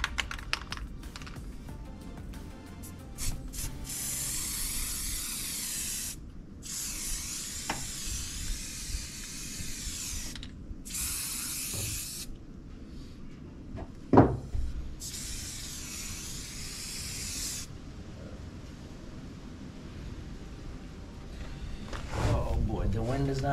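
Spray gun hissing in long bursts while paint coats the huge windows of a cabin under construction, several sustained sprays separated by short pauses, close and fairly loud over a steady background.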